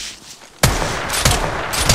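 Rapid bursts of gunfire in the Apex Legends battle royale game break in abruptly after a quiet moment, then continue as dense, loud, overlapping shots with sharper cracks at intervals.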